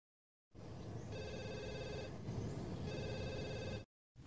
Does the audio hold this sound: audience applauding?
no